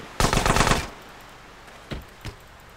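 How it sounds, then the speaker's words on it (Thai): Gunfire in GTA San Andreas Definitive Edition starts with a quick burst of rapid automatic shots, loud and close, and is followed by two single fainter shots after a pause. "ยิงกูทำไม"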